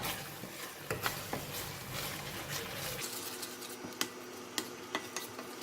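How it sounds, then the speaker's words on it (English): Anchovy sambal is stirred in an oily pan, a soft scraping and sizzling bed with occasional sharper clicks of the utensil against the pan, fairly quiet and close. "just to continue to stir for a couple of minutes"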